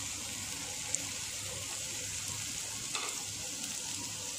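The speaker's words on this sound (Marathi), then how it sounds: "आता मी हे भाज्या यामध्ये फ्राय करून घेणार आहे।" Carrots and other vegetables frying in a pan for Chinese-style noodles give a constant, even hiss and sizzle with faint stirring, close by and without speech.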